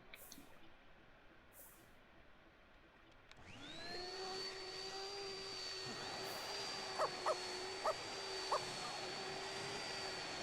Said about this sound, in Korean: 개별 청소기도 돌리고